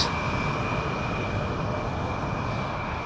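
An Air France Embraer 170 airliner lands at Amsterdam Schiphol Airport on runway 18R, a loud, steady, broadband engine roar with a thin sustained whine, constant across the whole stretch.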